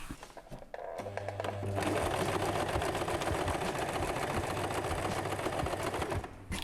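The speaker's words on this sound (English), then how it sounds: "I'm going to start by sewing my ruffles right sides together" A sewing machine runs a continuous seam through fabric ruffles, starting with a short burst and then settling into a steady, rapid whirring at close range, with no talking.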